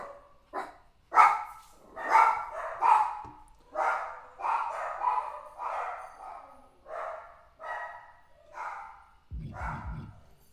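WWE 2K24 wrestling crowd chants in barking bursts, a steady series of a dozen short, rhythmic yelping waves, with a low thud near the end.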